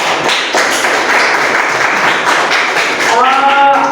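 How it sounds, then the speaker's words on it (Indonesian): A classroom of students claps together, producing dense, loud, sustained clapping that carries on steadily, with a voice rising over it near the end. "tepuk tangan dulu"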